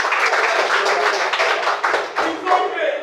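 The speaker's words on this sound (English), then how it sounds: "Please clap for him." An audience of students claps for a classmate during a broadcasting practical training session at a West African polytechnic, a dense, loud, steady round of applause from close by with some voices mixed in.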